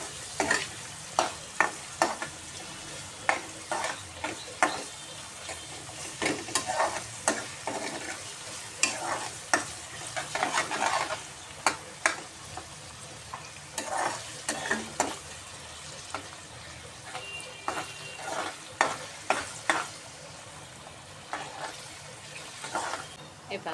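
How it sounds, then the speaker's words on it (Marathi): A large chopped onion sautéing in a pan for a soybean curry, with a continuous sizzle broken by frequent sharp scraping and clinking stir strokes in an irregular rhythm, close and fairly loud, with no talk. "एक मोठा कांदा कापून घेतला होता मी परतून घ्या चांगला"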